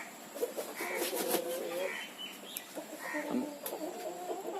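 A flock of about 200 Tiger breed chickens, young laying hens, cluck and murmur close by in overlapping bursts, a busy poultry chatter with faint background noise.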